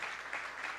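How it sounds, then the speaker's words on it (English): Audience applause for a lightning talk speaker at a Linux conference, a steady dense wash of clapping heard alone for under a second. "I'm going to go ahead and give him applause"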